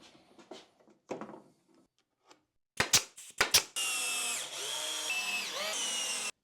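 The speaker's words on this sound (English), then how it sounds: "but then I'm going to put some screws in" A power drill drives screws into an antique factory stacking shelf: a few quiet taps and handling knocks, then short, sharp bursts of the motor, followed by a sustained whirring run that ends the clip.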